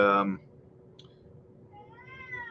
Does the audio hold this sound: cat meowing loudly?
yes